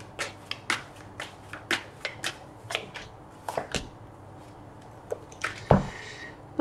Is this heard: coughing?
no